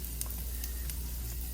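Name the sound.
food sizzling while pan searing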